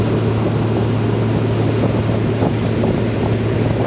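Wind roars steadily against the microphone while riding a Honda Goldwing touring motorcycle on a cold highway journey from Porto to Luxembourg. The rush is loud and unbroken over a low engine drone, with no voices.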